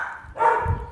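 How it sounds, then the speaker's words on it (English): A dog barks in a Mexican neighborhood, one sustained loud bark rising midway through after a quieter start, heard alone without speech. "dogs barking."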